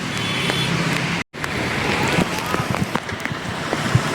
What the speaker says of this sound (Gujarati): અંદરથી પાણી જો અત્યારે કેવું આવે ધોધમાર.